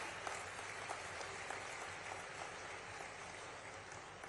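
Dense, continuous clapping from a crowd at a government river-link project ceremony in India, steady and fairly distant, with no voices over it.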